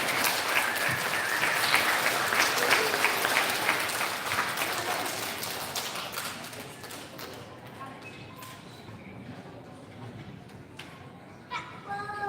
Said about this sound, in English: big round of applause for all of our STEM recipients